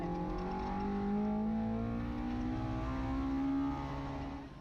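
A Mazda MX-5 race car at Donington Park during a circuit rally round, its engine note climbing steadily as it accelerates under load, loud and close like an onboard view, then easing off near the end.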